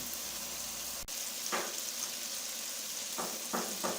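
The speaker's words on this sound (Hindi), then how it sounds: "इसके बाद पहले हम गोश्त को फ्राई कर लेते हैं।" Meat (gosht) fries in a pan with a steady, soft sizzle throughout, broken by a sharp click early on and a few brief stirring scrapes near the end.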